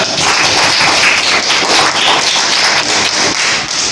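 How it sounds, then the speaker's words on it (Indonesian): Classroom applause after student presentations in a religious studies lesson, a steady dense clatter of many hands clapping together for the full four seconds, loud and close. "Tepuk tangan untuk semuanya."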